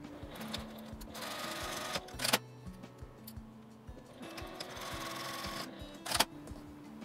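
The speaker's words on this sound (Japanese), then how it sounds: "着物の形に合わせて1センチの縫い代で縫います。" Sewing machine stitching the seam of a doll-sized kimono with a 1 cm seam allowance, running in close, steady bursts of rapid ticking with short pauses and a couple of sharper clacks.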